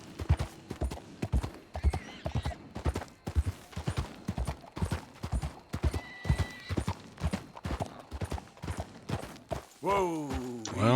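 Horse hooves clip-clop in a steady, even rhythm across a dirt trail in Red Dead Redemption 2, close and clear, ending with a horse whinnying near the finish.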